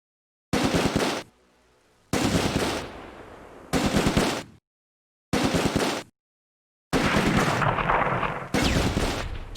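Machine gun and rifle fire from the World War II strategy game Close Combat: A Bridge Too Far comes in five sharp, loud bursts of rapid shots, each cut off by a short silence.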